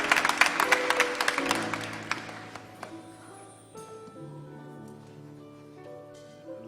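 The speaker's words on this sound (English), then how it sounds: "would you help me by giving God a hand clap of" A church congregation at a Sunday service claps in praise, a dense burst of hand claps that is loudest at the start and fades after a couple of seconds, giving way to sustained organ or keyboard tones.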